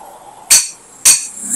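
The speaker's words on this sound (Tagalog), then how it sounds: "Pinupukpok niya na yan." Two sharp metallic hammer strikes on a ball race of a Honda ADV160 scooter, about half a second apart, loud and ringing, with a third blow starting at the end.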